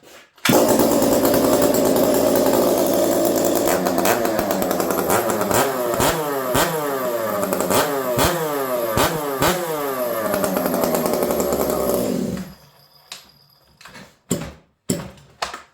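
A Stihl MS460 chainsaw with a freshly rebuilt motor runs after its first start, a loud close two-stroke roar with repeated revving surges, then cuts off, leaving a few clicks and knocks.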